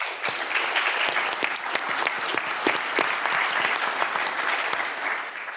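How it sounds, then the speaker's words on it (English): Audience applause at a nuclear energy conference, a dense, even burst of clapping from a large crowd that holds steady for several seconds before tapering slightly. "why don't we give a quick round of applause"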